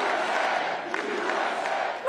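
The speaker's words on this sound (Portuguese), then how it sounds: "Donald Trump foi recebido com aplausos e gritos" A dense crowd cheers and shouts at Donald Trump's election victory celebration in West Palm Beach, Florida, a steady roar of voices that holds for about two seconds and swells slightly at the end.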